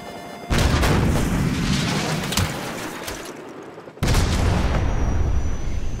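A Stinger missile fires at a helicopter in Call of Duty, a loud roaring launch blast and rumbling rush, then a sharp cut to a second heavy explosion that keeps booming.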